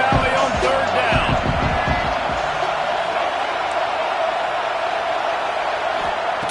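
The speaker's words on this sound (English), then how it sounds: "Here comes the noise from this big crowd in Happy Valley on third down." A big stadium crowd in Happy Valley roars on third down at a Penn State versus Cal football game, a loud, sustained wash of noise with some early thumps and an announcer's voice over it.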